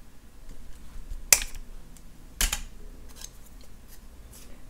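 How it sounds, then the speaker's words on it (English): Jewellery wire snipped with cutters while making a lariat necklace, two sharp close clicks about a second apart in a quiet room. "now I'm going to snip off my wire"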